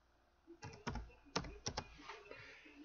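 Close, soft taps on a computer keyboard as a short word is typed, a quick cluster of distinct key clicks over a faint background hum.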